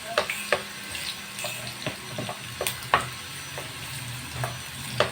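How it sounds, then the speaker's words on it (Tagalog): Garlic sautés in a pan toward golden brown, a moderate sizzle broken by frequent scraping and clinking of a spatula as it is stirred. "Gisa-gisahin lang natin hanggang mag golden brown yung ating bawang."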